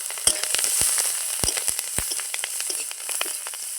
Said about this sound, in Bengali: সবার প্রথমে রসুন আর কাঁচা লঙ্কা চেরা দিয়ে দিচ্ছি ফোড়নে